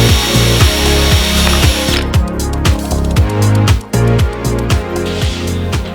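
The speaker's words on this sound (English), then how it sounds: "let's drill them both out and see if they line up" A power drill bores holes through a V1 Monster Service widebody rear fender flare on a car, a steady whirring grind that runs throughout with brief dips as the bit is eased off, loud and close with no talking.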